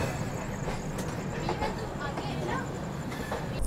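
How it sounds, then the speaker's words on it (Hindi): Rajdhani Express train running nonstop on the rails after Kanpur: a steady, loud rumble with clicking wheel sounds, heard from inside a carriage, with no other sound breaking the noise. "और अब तो कानपुर के बाद ट्रेन चली रही है और चलती ही रहेगी डीडीयू तक"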